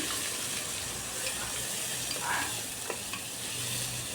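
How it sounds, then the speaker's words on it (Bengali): Cumin seeds, bay leaf, chopped ginger and onion frying in oil, a continuous close sizzle with occasional stirring scrapes; a faint voice is briefly present underneath. "গোটা জিরে ফোড়নে দিয়ে দিলাম, সাথে তেজপাতা, কেটে রাখা আদা, পেঁয়াজ সব কিছু তেলের মধ্যে দিয়ে খুব ভালো করে এখন আমি ভেজে নিচ্ছি।"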